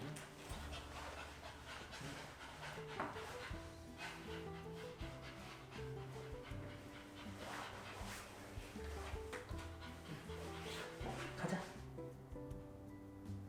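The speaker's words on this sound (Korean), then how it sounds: "이 새벽에 짖으면 안 돼." An excited dog pants and whimpers at 1:30 in the morning, eager to go out for a walk. The panting runs steadily over a dense, noisy indoor background.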